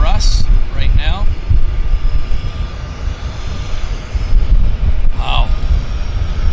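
A Twin Otter floatplane taxis out at the Vancouver Harbour floatplane base, its propeller engines giving a loud, steady drone close by, while people talk briefly over it.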